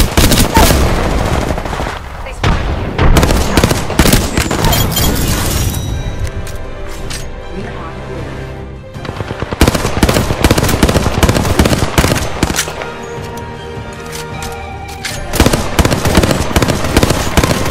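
Gunfire and a frag grenade explosion in the video game Apex Legends: dense, loud bursts of rapid automatic fire and sharp blasts repeat throughout, with only brief lulls between volleys.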